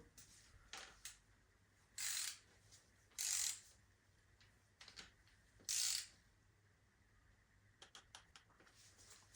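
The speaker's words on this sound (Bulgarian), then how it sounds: "Моят динамометричен ключ няма 10 нютона, затова просто започвам от 0." A torque wrench ratchets in short clicking bursts, three louder runs with a few quieter clicks, while tightening connecting rod bearings on a BMW M57 diesel engine.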